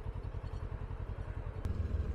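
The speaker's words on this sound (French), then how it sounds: "il fait un drôle de bruit ce tramway" A low, rumbling rattle drones steadily from a tram grinding along rails nearby, making an unusual noise, with a brief sharp click near the end.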